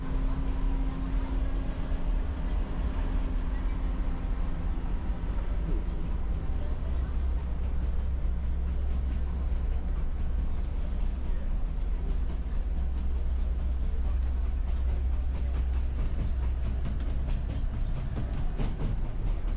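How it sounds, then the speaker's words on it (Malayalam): An Inca Rail scenic train runs through Peru toward Machu Picchu, with a continuous low rumble and steady rolling rattle from inside the carriage, and voices talking over it. "അതിമനോഹരമായ ട്രെയിനായിരുന്നു"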